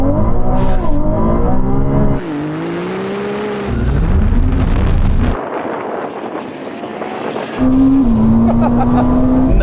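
Race cars in a video game roar and accelerate loudly, their engine pitch climbing and dropping through gear changes across several overlapping runs.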